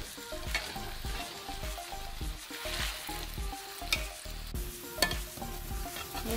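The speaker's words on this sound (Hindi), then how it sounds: "थोड़ी थोड़ी देर बाद मैं इसको चम्मच चला के इसको हटाती रहूंगी नीचे से।" A spoon stirs semolina halwa in a pan, scraping and knocking against the metal in steady, repeated strokes while the mixture sizzles beneath; loud, close and continuous, with no talking.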